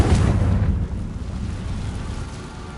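A Confringo blasting spell goes off in Hogwarts Legacy with a loud, close burst, followed by a deep rumbling boom that fades slowly over a couple of seconds.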